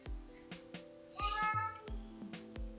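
A pet cat meows close to the microphone in a home recording room, one drawn-out rising meow in the middle, set among scattered clicks and taps.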